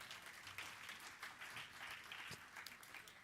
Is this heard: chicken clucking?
no